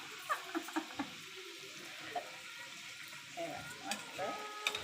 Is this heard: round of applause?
no